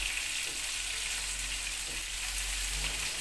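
Steady, dense sizzling of chopped peppers frying in a pan, continuous and close, with no talking.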